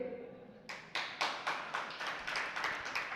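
Congregation at a Hindi sermon clapping together in a steady, even rhythm of about a dozen sharp claps, moderately close and heard alone without talk.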